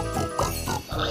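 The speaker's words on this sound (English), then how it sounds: "Some pigs have wandered off from the farm." Cartoonish pig oinking from a Thomas the train children's video game, several short snorting grunts in quick succession over game music, fairly loud and close.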